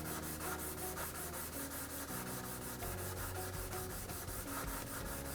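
An abrasive sponge scrubs back and forth over a very hard coating to remove a scratch, making a steady, close, rhythmic rubbing and scratching with quick repeated strokes.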